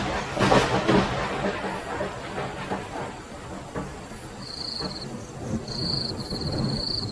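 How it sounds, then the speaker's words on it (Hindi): Heavy rain pours steadily with deep rolling thunder as storm sound effects, a loud rumble early on, a constant wash of rainfall throughout, and faint high insect-like chirps toward the end. "बाहर तेज तेज बारिश और बिजली कड़क रही होती है।"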